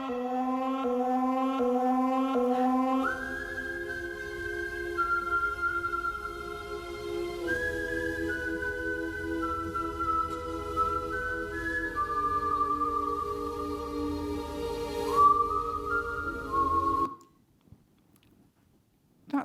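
Music passed through a broadcast radio audio processor: a dense, evenly loud organ-like melody with sustained, stepping tones over a low hum, played alone and cutting off near the end.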